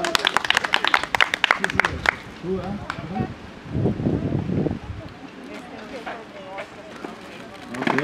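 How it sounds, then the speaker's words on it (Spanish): An audience claps briefly in quick, sharp bursts at the start, then someone talks over a noisy room with rustling and wind. "Ok, muy bien, el aplauso."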